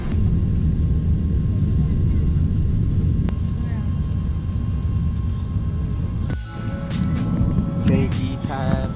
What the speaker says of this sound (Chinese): 现在要起飞了，然后这是第一次跟没有阿凯在旁边，然后我现在很紧张，对，我很害怕那个起飞的时候。